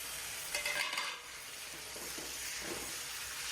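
Fermented dried fish (chepa shutki) curry with garlic frying in a pan, a soft steady sizzle with a brief burst of stirring and scraping early on, fairly faint and with no talking.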